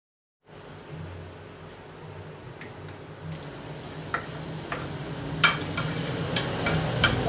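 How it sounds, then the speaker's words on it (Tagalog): Garlic sautéing in a pan, starting from silence and building into a gentle sizzle with scattered ticks and stirring scrapes that grow louder toward the end, no voices. "then maggigisa na tayo"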